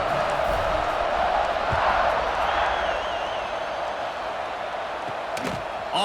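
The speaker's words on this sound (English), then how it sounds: "this crowd is buzzing after that last score" Video-game stadium crowd at a Notre Dame versus Stanford college football game, a dense, continuous roar and buzz of cheering that holds steady throughout, loud and enveloping, with a few faint thumps near the end.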